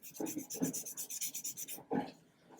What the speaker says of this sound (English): we can sand the sides